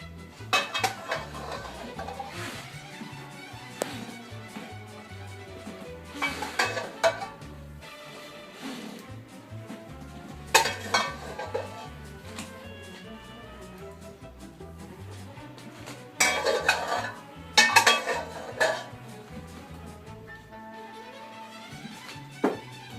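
A utensil scrapes and knocks the last lasagna sauce out of a metal pot in a home kitchen, with irregular clinks, taps and thunks recurring in short bursts, fairly close with no talking.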